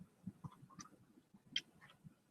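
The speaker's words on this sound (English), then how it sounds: "There's my cat." A house cat gives a few soft, short meows at close range in a quiet room, with faint thumps and rustles between the calls.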